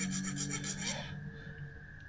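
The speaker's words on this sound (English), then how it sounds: "We just have a Shawno and a file." A hand file rasps in quick strokes across a metal engine part during a budget V6 engine rebuild. The close scraping strokes last about a second, then quieter background hum follows.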